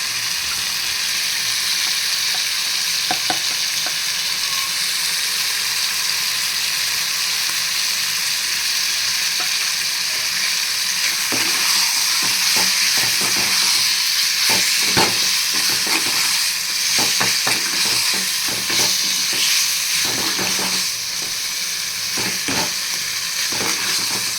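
Mutton liver frying in a pan with turmeric powder, a steady dense sizzle with scattered crackles and pops that thicken toward the middle, close up and continuous with no voices.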